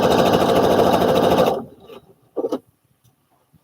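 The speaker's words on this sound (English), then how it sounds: "Make sure that I have it in the needle down position so that when I stop, the needle's down and the presser foot goes up just a tiny bit" Sewing machine stitching a seam on a pair of overalls, a loud steady rapid mechanical whir for about a second and a half that stops, followed by a few soft clicks.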